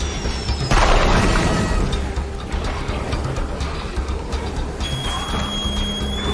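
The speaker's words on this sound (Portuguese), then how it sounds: "Vou colocar outra mina ali." A land mine in State of Decay 2 goes off in one sudden booming blast, and a rough, rumbling tail of debris and noise follows it, with no one speaking.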